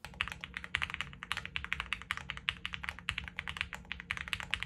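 Fast typing on a budget mechanical keyboard modded with PE foam gives a rapid, close run of crisp, poppy keystrokes in a steady flurry, faint overall and heard alone without speech.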